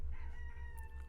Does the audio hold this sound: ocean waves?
no